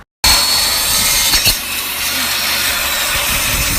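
A saw rips thin quarter-inch strips of wood for an endgrain cutting board. After a moment of silence comes an abrupt, loud, sustained cutting roar that holds steady to the end.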